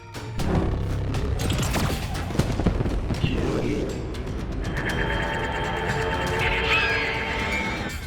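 Cannon and multi-laser weapons fire in an Ultraman Blazar battle scene, a loud dense barrage of booming blasts and whining energy tones that rises to a sustained roar, with a voice speaking over parts of it.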